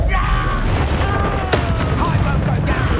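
Incendio fire spells in Hogwarts Legacy burst as loud, sharp blasts in quick succession, layered over continuous combat noise.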